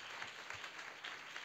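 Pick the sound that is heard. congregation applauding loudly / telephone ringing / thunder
congregation applauding loudly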